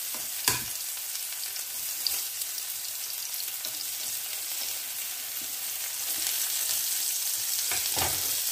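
Onions frying in a pan crackle with a steady, close sizzle, punctuated by a few sharp stirring knocks and growing slightly louder toward the end; no one speaks.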